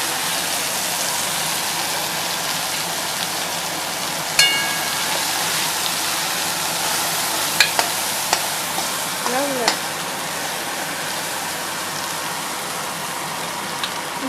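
Mashed green pea paste with ginger and nigella seeds, for pea-stuffed kachori, hisses loudly in hot oil in a steady close sizzle, with a few clinks of a spoon against the pan.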